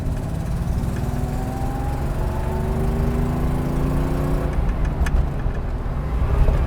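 A Porsche 911 with a 915 manual transmission being driven, the engine droning steadily and fairly loud with slowly shifting pitch and a rising push toward the end, with no one talking.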